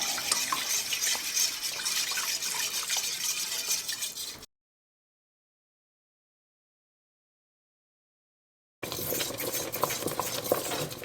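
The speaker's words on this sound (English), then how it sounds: "I'm going to stir and just keep an eye on it and let it cook for about 8 to 10 minutes until it begins to get thick" A spoon stirs macaroni and cheese sauce as it cooks and thickens in a pot: a steady, close scraping and liquid swish, broken by a few seconds of complete silence partway through, with no voices.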